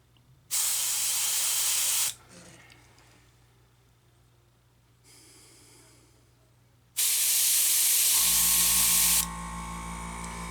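Aerosol or airbrush paint sprayed onto a model of the Psychon mystery ship, in two loud, close hissing bursts of about one and a half and two seconds, separated by quieter background.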